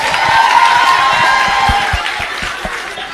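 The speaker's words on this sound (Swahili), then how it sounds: "Haya, pigie yeye makofi." A crowd at an ODM young captains political meeting in Kenya claps and cheers loudly, with scattered laughter and voices mixed into the steady roar of applause.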